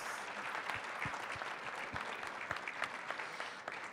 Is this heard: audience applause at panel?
yes